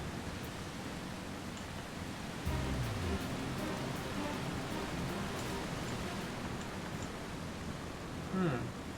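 Steady rain falling in Final Fantasy XIV, a continuous even hiss of sideways showers that holds throughout, with a brief faint tonal game sound near the end.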